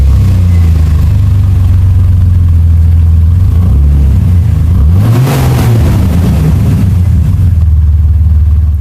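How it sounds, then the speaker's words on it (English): A Jeep Cherokee XJ engine runs with the muffler and tailpipe removed, making a loud, raw exhaust drone close by. The idle wavers with a brief rev near the middle and then settles back. "So now we're just going to start it and see what it sounds like with no muffler."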